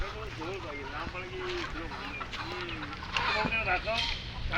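Several desi country chickens on a village poultry farm in Konkan cluck and call in wavering tones close by, with a voice talking over them and background farmyard noise.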